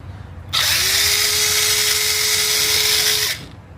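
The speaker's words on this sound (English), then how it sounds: "These is Torx. We loosening up now." A power drill or impact driver spins out Torx bolts on a 2013 Jeep Grand Cherokee during oil pressure sensor and filter housing gasket work, one steady, loud high-pitched whir of about three seconds, close by and not under talk.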